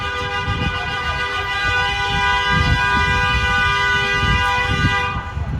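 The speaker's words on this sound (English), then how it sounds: "So he's honking to say, get your van out of the fucking way" School bus in New York traffic sounding its horn in one long, loud, sustained blast held for several seconds, with street rumble beneath, cutting off at the end.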